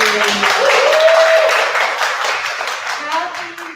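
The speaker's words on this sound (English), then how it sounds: "give them a round of applause, please" A conference audience clapping for the mothers in the room, a burst of lively hand claps that swells and then tapers off, with a speaking voice and a voice mixed in.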